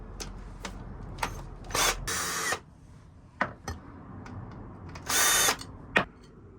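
Short bursts of a power drill backing screws out of a cover on a Harley-Davidson 48 motorcycle, two longer whirring runs among several brief clicks and taps, close and loud with no talking.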